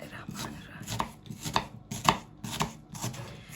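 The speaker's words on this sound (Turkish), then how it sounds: "Soğanlarımızı yemeklik olarak doğrayarak başlıyoruz." A knife chops onions steadily on a cutting board, about seven even strokes in a regular rhythm, close and fairly quiet.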